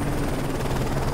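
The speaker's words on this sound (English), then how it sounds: "Enemy chopper closing on your position." An enemy helicopter approaches in Call of Duty: Modern Warfare 3, its steady, loud rotor drone filling the moment with a low pulsing throb.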